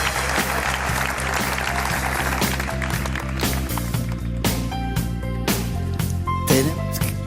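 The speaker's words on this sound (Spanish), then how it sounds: "Os pido un aplauso para él." An audience applauds a guest at a live event, a sustained wash of clapping blended with loud music throughout.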